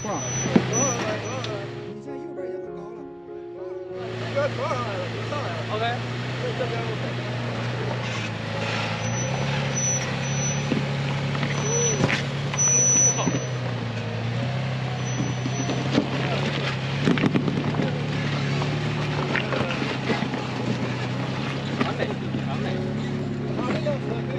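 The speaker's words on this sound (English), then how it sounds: "He turned on all the lockers and started to crawl up." A Toyota FJ Cruiser with its lockers engaged crawls up a rock ledge off-road, its engine a steady low drone that rises and falls under intermittent talking, with scattered knocks and scraping from the rocks.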